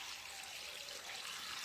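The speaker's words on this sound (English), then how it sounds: "This is 2 litres of water. So I'm going to put that in first." Two litres of water are poured into a container for preserving seaweed in glycerine, producing a steady, soft trickling stream that stays even throughout with no speech.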